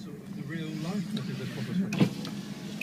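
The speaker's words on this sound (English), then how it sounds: "All the electric windows work as they should." Electric windows on a 1989 Jaguar XJS 5.3 V12 hum steadily as they run, a low motor whine with a faint click near the end, heard close inside the car.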